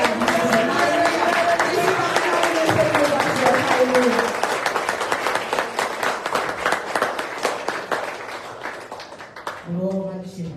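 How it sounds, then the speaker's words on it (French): A church audience at a faith convention applauds as a pastor is welcomed, with dense clapping under cheering voices early on that thins into scattered, rhythmic claps before a voice speaks at the end. "sous vos applaudissements"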